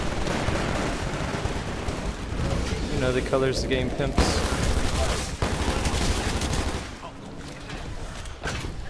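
Gunfire from a white and red gun in the video game Titanfall, dense rapid bursts of shots mixed with booms and game effects, loud and close, with someone talking over it.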